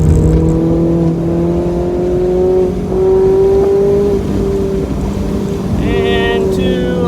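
A lightly modded Mazda ND Miata on a racetrack at Atlanta Motorsports Park produces a loud, steady engine drone from inside the car, holding revs with small shifts in pitch under brief speech.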